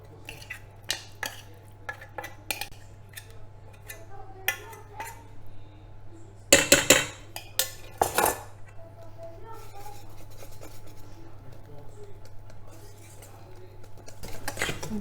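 A spoon stirs a sugar-free, fat-free chocolate cake batter with sifted flour and baking powder in a bowl, with irregular clinks and scrapes against the bowl, a few louder knocks midway, and a faint steady hum beneath.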